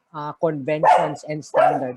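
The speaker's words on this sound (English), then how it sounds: "So, sorry for my dog." Dog barking in several sharp, close bursts that overlap a person speaking, loud and spaced through the whole moment.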